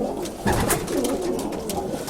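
Pigeons coo softly and continuously, several birds murmuring close by in a low, rolling rhythm.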